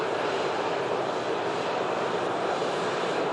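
An airliner arriving at an airport produces a steady, broad, loud roar of engine noise with no clear rise or fall over a few seconds.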